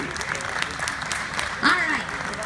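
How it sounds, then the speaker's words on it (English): A crowd of theme park industry workers applauds at a Six Flags New England presentation, steady moderate clapping with a voice briefly rising over it near the end. "Please give yourselves a round of applause for everything you do for the theme park industry."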